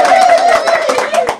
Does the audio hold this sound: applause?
yes